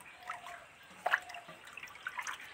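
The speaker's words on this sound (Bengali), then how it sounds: "আটা জলের মধ্যে দিয়ে দিচ্ছি, দিয়ে ভালো করে মিশিয়ে দিচ্ছি।" Atta flour is mixed into a bowl of water by hand, giving faint, close, wet sloshing with small drips and splashes.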